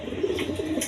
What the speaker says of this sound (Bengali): ওইটা রানিং পেয়ার, ডিম বাচ্চা করানো কবুতর